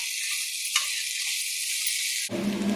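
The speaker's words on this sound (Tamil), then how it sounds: "ஸோ நல்லா இப்படி வதங்கிட்டு இருக்கட்டும், ஃப்ரை ஆகட்டும் நல்லா." Okra (ladies finger) frying in a pan for a vathal fry, giving a steady close sizzle that runs throughout, with a brief bump near the start and a duller, lower texture in the last half second.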